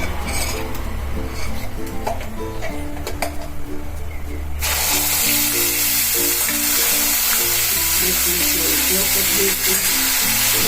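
A paste of onion, ginger and chilli hits a hot pan for a dum aloo gravy and bursts into loud, steady sizzling. Spoon clinks and stirring scrapes sound over the frying hiss, which grows brighter and stronger partway through.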